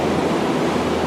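Ocean waves used as a storm-at-sea sound effect, a dense, loud, continuous wash of surf noise with no break across the short stretch.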